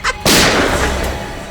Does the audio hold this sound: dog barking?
no